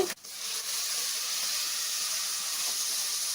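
Finely chopped large tomato hitting hot oil for a Telugu crab curry, giving a steady, bright hiss that stays loud and even throughout after a brief sharp start.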